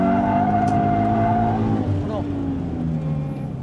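A Toyota 86 accelerates mid-drift, the engine revving up and holding a steady tone with faint tire squeal, heard from inside the car while someone talks over it.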